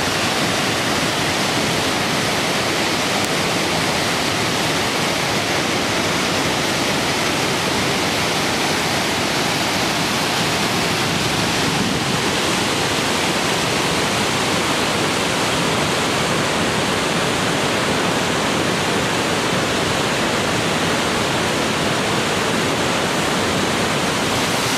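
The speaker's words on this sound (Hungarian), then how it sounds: "Megint a hegyből jön ki a víz." Water gushes from a Norwegian mountainside in a steady, loud roar of broadband rushing noise, close by and unbroken for the full length with no talking.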